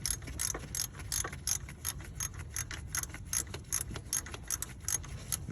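A 7mm bolt is threaded into a mounting point on the engine block of a 2011 Ford Flex 3.5 during an alternator replacement. A quick series of close, sharp metallic ratchet clicks repeats rhythmically with no talk.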